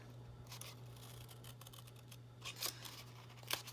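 Scissors snip through paper while a rectangle is cut out for a small folded paper mini box, quiet close crisp cuts arriving in small clusters over a steady low hum, with a couple of sharper snips near the end.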